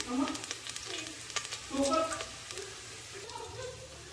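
Tempering spices and dried red chillies sputter and crackle in hot oil for sambar, with sharp popping bursts over a steady sizzle.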